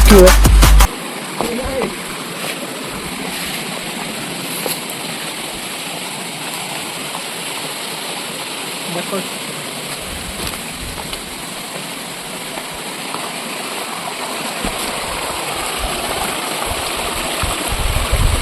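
Water rushes and splashes steadily at Raikal waterfalls, a loud, continuous outdoor roar heard up close that keeps going for the whole stretch, with no speech.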